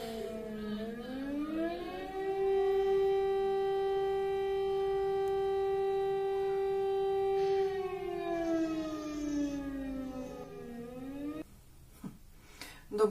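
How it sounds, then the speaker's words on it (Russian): Civil defense air raid sirens wail on a rainy morning, a single long tone rising, holding steady and then falling away, heard from a distance with soft background noise afterward. "Дощ і сирени."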